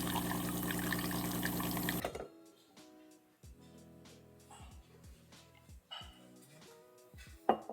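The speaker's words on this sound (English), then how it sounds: "then that brews 2 shots of espresso" A home espresso machine brews two shots, giving a loud steady pumping hum for about two seconds, then quieter trickling and dripping with small clicks and clinks of cups nearby.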